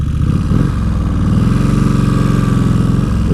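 A 2003 Kawasaki Vulcan 1600 cruiser motorcycle engine runs steadily up close with a deep, loud, throbbing low rumble and even pulsing, with no talk over it.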